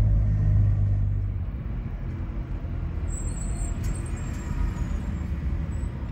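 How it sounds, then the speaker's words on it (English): Steady road traffic rumble heard from inside a van on a Tennessee highway, a low continuous drone with engine and tyre noise that is louder for the first second, then evens out, with no talking. "Traffic, traffic, traffic."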